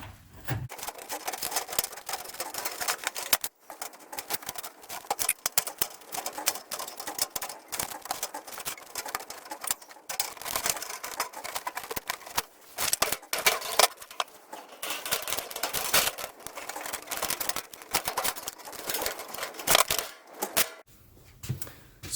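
Sheet metal is cut by hand into boot floor repair patches for an Austin Mini, giving faint, irregular crisp clicks and snips in a quiet workshop.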